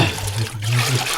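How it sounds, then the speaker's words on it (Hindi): Water poured during a Hindi radio drama, a loud close continuous gush and trickle like a stream splashing into a vessel, heard alone without voices. "और डालो पानी, और डालो।"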